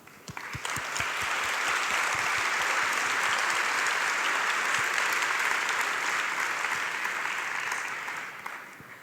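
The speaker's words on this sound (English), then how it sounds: "may I invite all of you to give the contributor a big round of applause" Loud sustained applause from a conference audience at an academic closing and awards ceremony, rising quickly from a few first claps into a dense, even roar that holds steady and then fades near the end.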